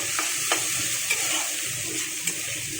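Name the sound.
fish frying in a pan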